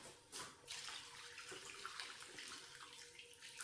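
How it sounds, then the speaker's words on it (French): Water pours steadily into a paella pan for a Valencian paella, a continuous splashing hiss with a brief louder surge near the start, heard alone. "je mets 3 fois le volume d'eau"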